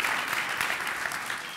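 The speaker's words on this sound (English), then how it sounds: "I think that does deserve a huge round of applause." A brief, steady burst of audience clapping at a football ball launch event greets a distinguished guest. It stays dense and even for just over a second, with faint speech underneath.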